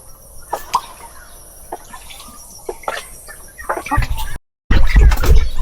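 Hen clucking on a mini farm, with scattered short clucks and soft calls close by amid light background noise, ending in a burst of louder rustling and handling noise.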